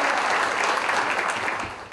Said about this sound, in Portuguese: Monta e é aplaudido.